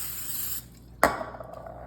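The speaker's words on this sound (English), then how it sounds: "I'm gonna spray it with a little bit of Pam." Pam cooking spray hisses onto a spatula in one brief burst of about half a second, followed by a sharp metallic clink and small handling knocks up close.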